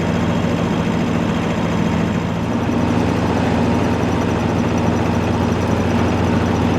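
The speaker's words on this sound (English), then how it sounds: "His engine is just starting up" A boat engine starts up at a dock in Oakland and settles into a steady, loud low rumble with a constant drone throughout, with no talk.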